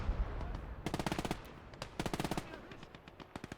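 MG42 machine gun fire in the Gates of Hell video game, several rapid bursts of shots with short pauses between them, loud and sharp over a low background rumble.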